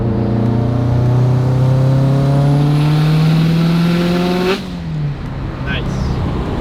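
An EG33 flat-six swapped into a Subaru WRX STI revs up close and loud, its pitch climbing steadily for about four seconds before the throttle snaps shut and the engine falls back to a lower idle.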